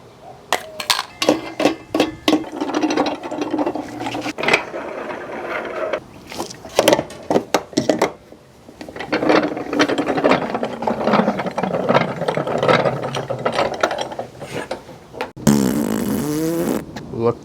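A Bighorn sausage stuffer cranked while casing summer sausage, giving a busy run of ratcheting, clinking mechanical sounds with short breaks, close and fairly loud, with a brief squeaky burst near the end.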